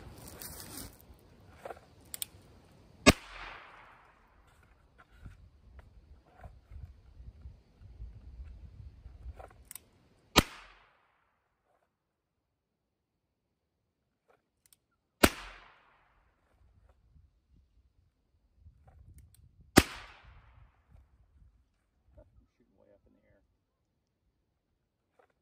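Ruger Wrangler .22 single action revolver fired during draw-and-shoot practice, four sharp, loud cracks spaced several seconds apart with brief echoing tails, with quiet rustling and handling between shots.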